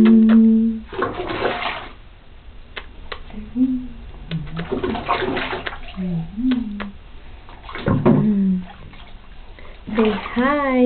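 A small child splashes water in a bathtub at a grandmother's house, making intermittent sloshing bursts among frequent young children's voices and an adult's talk.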